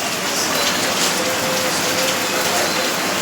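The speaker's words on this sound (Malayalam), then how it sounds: "നല്ല മഴയോടെ നിൽക്കുകയാണ്." Heavy rain pours down without a break on a rainy morning, a loud, dense hiss of drops hitting surfaces close by, with no voices.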